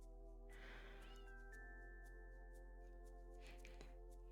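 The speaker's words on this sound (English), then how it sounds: "I think you can hear my cats." Pet cats meow loudly at dinner time, with two or three drawn-out, insistent cries close by and no talk, over a steady low electrical hum.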